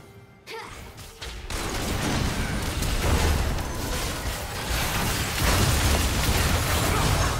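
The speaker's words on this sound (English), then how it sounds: "Red team's turret has been destroyed." A League of Legends turret being destroyed: a sharp burst near the half-second mark gives way to a sustained loud rumble of crumbling debris and game effects that carries through to the end.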